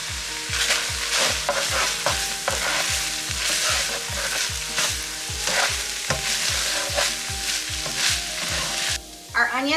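Diced onion cooks with ground beef in a pan, sizzling steadily under a fast, regular scraping of a spatula against the pan, loud and close, with a brief pause near the end.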